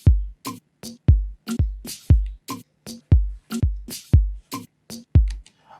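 Afro house drum loop built in FL Studio, with deep punchy kick hits and sharp percussive snaps in a steady syncopated groove, loud and clean with no voices.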